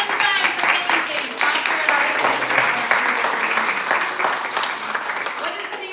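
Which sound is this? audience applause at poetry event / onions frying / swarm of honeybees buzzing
audience applause at poetry event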